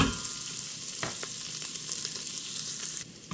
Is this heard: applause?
no